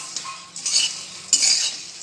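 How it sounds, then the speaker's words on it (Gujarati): Spicy garlic puffed rice being stirred in a pan over a low flame, with a utensil scraping and rattling through the dry grains in two short bursts, close and fairly loud with no talking. "હવે આપણે બધું એને ધીમા તાપે જ આવી રીતે હલાવી અને સરસ મિક્સ કરી લેવાનું"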